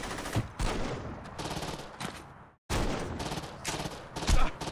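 Rapid, loud gunfire bursts in Saints Row 2 rattle in dense volleys, cut off by a brief silence before another barrage resumes.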